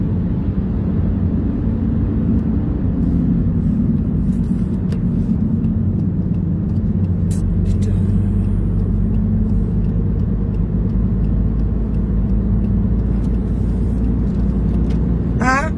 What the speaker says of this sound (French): Attendez, il y a une voiture.